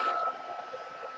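A steady, breathy whoosh of a hair dryer blowing close by, with a fairly constant airy roar and a slight drop in level partway through.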